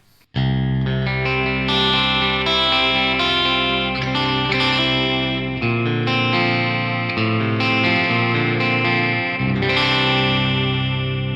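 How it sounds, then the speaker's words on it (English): Bright, twangy electric guitar tone from humbuckers split to their outer coils, playing strummed chords with chorus and light grit, loud and steady throughout. "That's a really nice sounding split outer coil sound."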